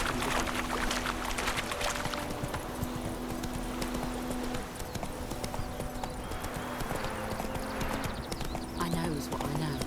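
Roach, the horse in The Witcher 3: Wild Hunt Game of the Year Edition on PS5, gallops with a fast, steady clip-clop of hooves, close and loud throughout, with game voices and ambience mixed in.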